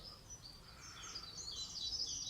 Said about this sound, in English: As you can hear the birds chirping away in the trees